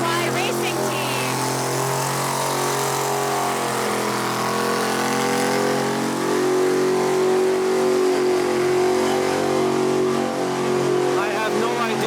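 An FDNY racing team car roars continuously during a burnout at a village firemen's parade on the street, the engine revving loud and close for several seconds with a slight swell near the middle.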